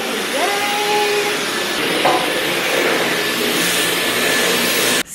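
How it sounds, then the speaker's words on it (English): A vacuum cleaner hoovering a flat drones steadily and loudly throughout, with a brief whine early on and a short cut near the end. "now we're hoovering"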